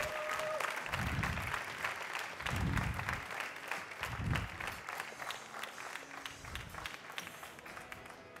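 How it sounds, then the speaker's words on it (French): Steady, fairly distant applause from an audience at a French barista championship final fills the space, with low thumping beats pulsing underneath at regular intervals. "Un tonnerre d'applaudissements, mesdames et messieurs, pour Les Charlotte boissons Malaval."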